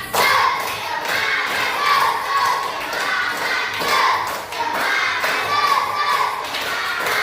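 Primary school classroom children performing a rhythmic clapping chant, loud group claps and thumps in a patterned beat with children's voices chanting along throughout.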